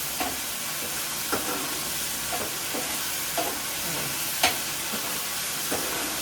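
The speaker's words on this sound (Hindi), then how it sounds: "ये तड़का ऊपर से ऐड किया जा रहा है।" A tadka of spices tempering in hot oil for dal makhani, rajma and mixed black lentils sizzles loudly and steadily, broken by several sharp spoon clinks and stirring taps at irregular intervals.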